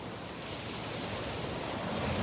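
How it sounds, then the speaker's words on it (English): Steady ocean surf washing onto a beach at Delnor-Wiggins on an overcast morning, a continuous broadband rush of breaking waves with no talk over it. "listening to these waves breaking on the shore"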